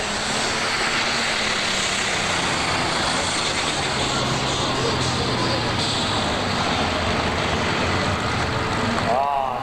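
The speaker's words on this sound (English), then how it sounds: "Engine RPMs came down, and the turbochargers began to come working against him" A loud, steady engine roar drones throughout, heavy and continuous with a rising whine near the end, from a turbocharged super stock pulling tractor under full load at a 1988 tractor pull.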